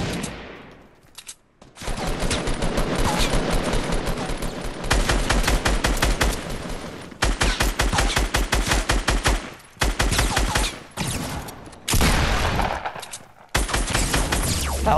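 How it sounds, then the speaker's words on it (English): Video game shootout with a hunting rifle nearby, rapid loud automatic gunfire in long continuous bursts, broken by a few brief pauses. "They're shooting at me."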